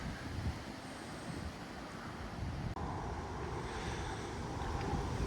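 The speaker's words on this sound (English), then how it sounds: "It's a nice sunny day, but the wind is ice cold." Cold wind blowing outdoors on a sunny day beside an apple tree in Chubbuck, Idaho, a steady loud rush of wind noise buffeting the microphone, with a brief dropout midway and no talking.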